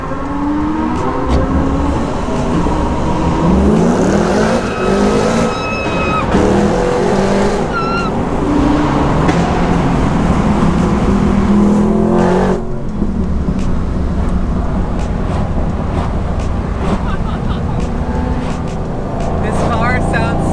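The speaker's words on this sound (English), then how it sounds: "This car sounds so good in the tunnel." A manual-transmission car, a 2019 Eleanor build, revs hard inside a road tunnel in Los Angeles, its loud engine roar swelling and echoing for the full stretch, with people talking and exclaiming over it.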